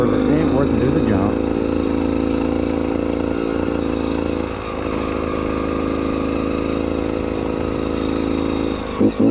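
A Beta dirt bike engine runs steadily through muddy woods, a continuous mid-pitched droning hum that holds close and loud throughout, with only slight rises and dips in revs.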